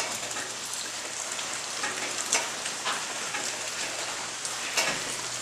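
Steady rain falls outdoors at a mountain homestead, a dense continuous patter with occasional closer drops standing out, no voices.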